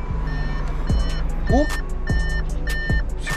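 A reversing vehicle, with an Audi named as the source, beeps in steady repeated tones at a moving job. Someone briefly speaks over the beeps, and engine noise and clattering knocks run underneath.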